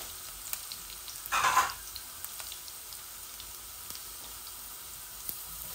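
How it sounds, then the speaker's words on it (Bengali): Garlic fries in hot oil with a faint steady crackle, broken by one brief louder burst of spatter and a few light clicks. "আমার রসুনগুলো লাল হয়ে গেছে"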